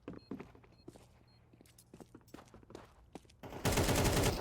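Scattered gunshots and footsteps in a competitive Counter-Strike match rattle across the map, building to a loud, dense burst of rapid fire near the end.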